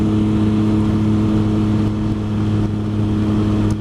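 A motorcycle engine while riding on Hwy 28 away from Deal's Gap: a loud, steady, close engine drone that holds an even pitch throughout, with no talking.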